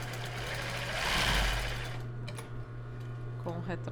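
A sewing machine stitches along the top of a strapless topper, with a broad burst of running in the first two seconds, then quieter mechanical clicks and handling.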